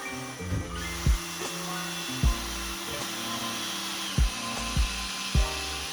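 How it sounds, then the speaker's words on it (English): A power tool whirs steadily while sanding a yellowed headlight lens on a Honda CR-Z, a close, continuous hum with periodic low thumps and pitch dips as pressure is applied. "Using medium to light pressure, begin sanding and removing the yellowing and surface defects from the lens."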